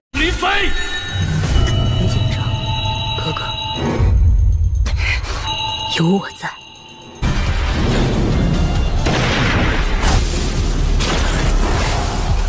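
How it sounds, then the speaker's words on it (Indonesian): Loud cinematic booms and blasts from the Dragon Raja film crash together with a dense, roaring rumble and sweeping tonal effects, like gunfire and explosions in an action scene. "Ming Pei yang lepasin tembakan tepat terdaratkan di mata ketiga sang naga."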